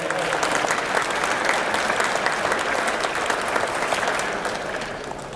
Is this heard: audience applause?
yes